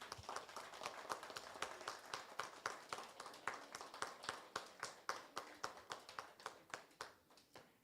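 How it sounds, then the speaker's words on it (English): A small audience at a university architecture department entrepreneurship program gives a round of applause, individual claps sharp and distinct in a loose, quick, fairly faint patter. "A big round of applause, please."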